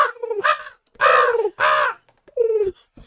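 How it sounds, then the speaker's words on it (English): A crow caws four times in a spaced, irregular rhythm, loud and close, with nothing else around it. "You heard the crow?"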